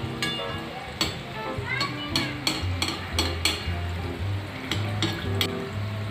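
Gulab jamun frying in oil, stirred and basted with a slotted spoon: a soft sizzle with scattered clinks and scrapes of the spoon, while someone talks over it.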